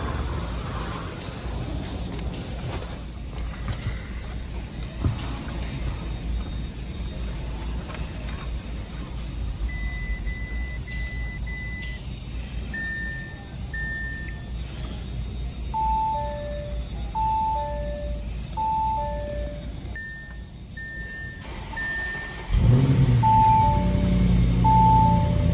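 An Audi S6/S7/S8 4.0-liter V8, just fitted with a new coolant pump, is started in a garage. A series of soft electronic chimes plays first, then the engine fires near the end and settles into a loud, low idle.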